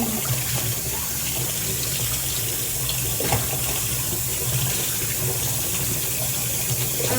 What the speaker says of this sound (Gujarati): હવે પાણી નાખી દઈએ